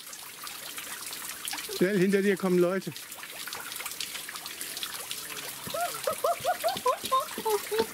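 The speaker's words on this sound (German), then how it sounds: "Hier kam auch einmal ein bisschen Wasser von oben, durch das wir hindurch mussten." Water trickles and splashes down from above onto a levada path on Madeira, a steady wet patter running throughout beneath people talking nearby.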